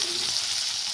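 Tomatoes are sautéed with salt in a pan for sambar, giving a steady, loud sizzle that lasts a short moment with no voices.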